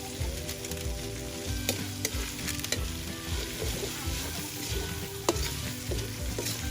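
A pot of Ilocano-style pork blood stew (dinuguan) being stirred, with a steady close sizzle and bubbling plus scraping, clinking spoon strokes against the pot.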